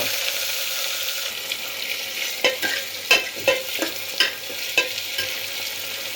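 Cumin seeds and curry leaves fry in hot oil in a pan, a constant sizzle with a string of sharp scraping stirs and clinks toward the end, loud and close with no talking.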